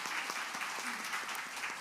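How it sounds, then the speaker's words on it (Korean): A church congregation claps together at a 2023 New Year's Day worship service. The short burst of applause is fairly quiet and steady, with faint murmuring beneath it. "우리 하나님 앞에 큰 영광의 박수 올려드립니다"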